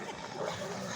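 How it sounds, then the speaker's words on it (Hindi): Dogs fighting outdoors on a rural path, a short burst of snarling and yipping that runs continuously under a person's voice. "ये देखो तो लड़ाई होगी कुत्तों की।"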